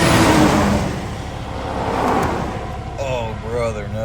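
An 18-wheeler semi truck roars past close by on a road, its engine noise swelling and fading, with a brief whine of acceleration at the end.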